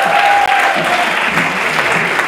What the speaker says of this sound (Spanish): Un aplauso número 3